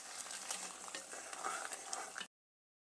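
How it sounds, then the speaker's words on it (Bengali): A ladle scrapes and stirs thickening kheer sweetened with red batasha in a kadai, a steady close-up rasp and sizzle that continues for about two seconds before cutting off. "এটা এরকম ভাবে বানিয়ে নিচ্ছি কড়াইয়ে অনবরত ঘষে ঘষে হাতা দিয়ে"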